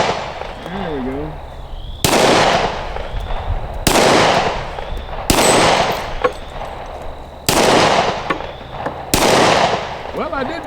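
A Smith and Wesson M&P 2.0 10mm pistol fires six loud, sharp shots spaced about two seconds apart outdoors, each ringing off briefly, with faint murmuring between them.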